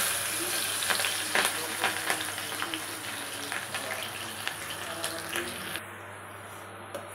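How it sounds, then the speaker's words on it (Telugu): Mustard seeds and chopped green chillies fry in hot oil in a pan, with a steady close sizzle and scattered pops and crackles, fairly loud and without talk. "మనకి ఆవాలు చిట్టుపట్లాడుతున్నాయండి. మనం ముందుగా కట్ చేసి పెట్టుకున్న పచ్చిమిరపకాయలు వేసుకున్నాం."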